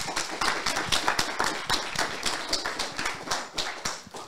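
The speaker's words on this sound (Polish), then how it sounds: "poproszę o brawa oczywiście" An audience at a hackathon pitching session applauds after a pitch. Dense, fairly close clapping goes on steadily for a few seconds and then thins slightly toward the end.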